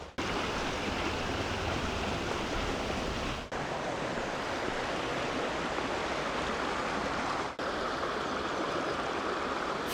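A narrow Peak District brook rushes in a dense, unbroken wash of running water close by, loud and steady and with no talking over it.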